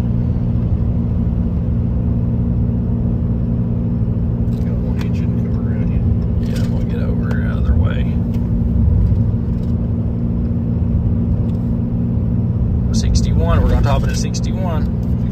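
A 2021 Ram pickup truck hauling a diesel forklift climbs a hill, its engine and road rumble droning loudly and steadily inside the cab while people talk over it.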